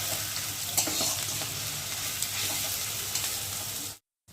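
Onion and garlic frying in oil, a close, steady crackling sizzle with light stirring clicks that stops abruptly near the end before a brief return.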